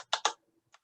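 A few quick keystrokes on a computer keyboard while a field name is typed in: two close, crisp bursts of clicks followed by a couple of fainter taps, with no voices.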